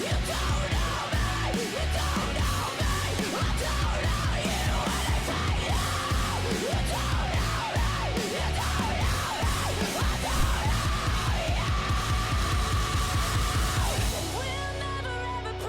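A heavy screamed vocal in a song rings out loud over dense, driving rock instrumentation, sustained through most of the passage before the band drops into a thinner, quieter ending.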